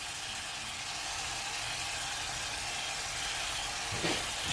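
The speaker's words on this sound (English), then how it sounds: "And there's the sizzle. They are starting to cook already." Meatballs for sweet and sour meatballs sizzle steadily in a hot pan, a loud, even hiss that carries on without a break and with no talking.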